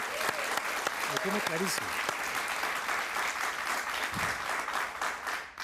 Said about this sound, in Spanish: Un aplauso para esta señora.